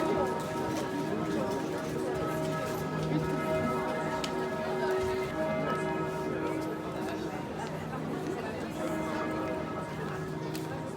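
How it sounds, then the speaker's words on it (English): Church bells of Notre Dame Cathedral in Strasbourg ringing during a walk through the Christmas markets, sustained overlapping bell tones sounding through a busy outdoor crowd hubbub with voices around. "The church bells are from the Notre Dame Cathedral."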